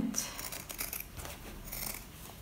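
Scissors trim a fabric seam allowance down to about 3 mm near a zip while a bag is being sewn, giving a quick series of soft, close snips that are faint and crisp.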